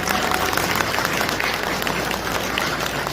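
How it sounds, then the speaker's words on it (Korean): Wedding guests applaud as the bride walks to the stage with her father, a continuous, even patter of many hands clapping at moderate loudness throughout. "여러분 더 큰 축복의 박수 부탁드립니다."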